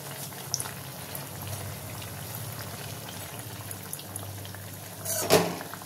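Carrot malpua batter fries in hot oil, a steady bubbling sizzle held at an even level, with a brief clatter of utensil handling near the end.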